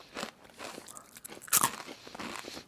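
Crispy tempura-battered onion rings are bitten and chewed up close, with crackling crunches and one loud sharp bite midway, no talking over it.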